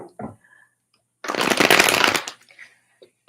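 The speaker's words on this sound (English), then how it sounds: "Let's shuffle again because that was a little bit nuts." A deck of playing cards is shuffled in one close, loud riffle lasting about a second, framed by brief handling rustles and near-silence.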